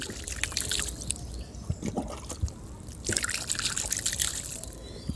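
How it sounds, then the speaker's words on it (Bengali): Water splashed and sprinkled by hand over a homemade organic compost mix of mustard oil cake, vegetable peels and cow dung, heard as close, irregular trickles and wet pattering in short bursts. "এর মধ্যে জল ছিটা দিন"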